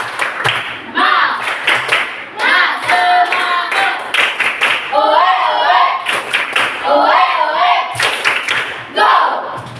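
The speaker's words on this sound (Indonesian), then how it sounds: "Tepuk semangat." A classroom of Indonesian schoolchildren performs a rhythmic spirit-clap cheer, their sharp, patterned hand claps ringing out in unison over their loud chanting voices throughout.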